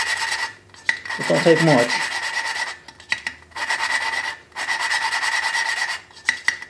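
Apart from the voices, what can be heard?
valve grinding on a Briggs engine with suction cup tool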